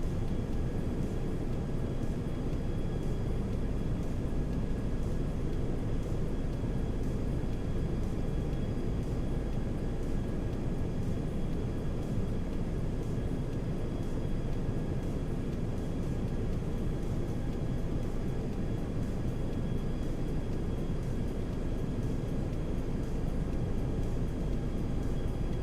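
Airbus A321 jet engines with an IAE soundpack in the X-Plane 11 flight simulator, heard as a steady, broadband cockpit roar and hum on final approach, continuous and unchanging with no talk.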